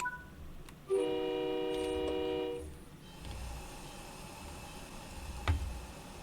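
An MBTA commuter train pulls out of Natick Center in a train simulator game, sounding a loud steady multi-tone horn for about two seconds, followed by a low rumbling hum of the departing train and a faint clank.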